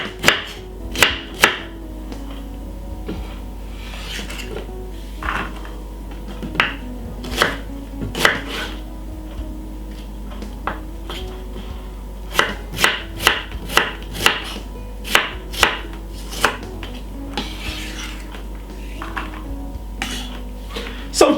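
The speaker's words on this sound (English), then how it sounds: "1 medium-sized white onion. Cut it up very smallly." A knife chops a medium-sized white onion very finely on a board, sharp close strikes in quick bursts separated by short pauses, with a faint clink of kitchenware in between.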